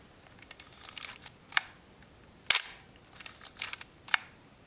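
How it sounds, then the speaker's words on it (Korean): A Minolta SRT303b film camera fires its shutter several times, each release a sharp mechanical snap, mixed with softer clicks and ratcheting from advancing the film, all close and spaced unevenly without voices. "한 두세 번 공셔터 날려주신 다음에 그 다음에 뚜껑을 덮고 다시 한번 필름을 감아서 1이 될 때까지 셔터를 눌러주시면 됩니다."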